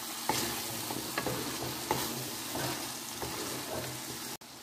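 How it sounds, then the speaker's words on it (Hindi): Peas and potatoes fry and get stirred in oil in a pan, a steady close sizzle broken by repeated scraping stir strokes at an even pace, with no voices. "इसको 1 से 2 मिनट तक भूनेंगे अच्छे से"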